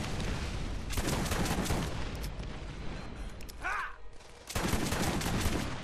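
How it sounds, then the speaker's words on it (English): Gunfire in the video game Borderlands: rapid loud bursts of shots, a brief pause with a whooshing effect, then another dense volley. "Is he shooting on fire behind himself?"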